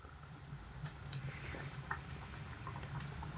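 Pea curry gravy boiling in a pot on high heat: a faint, steady bubbling simmer with small scattered pops and gurgles, quiet and continuous with no talk.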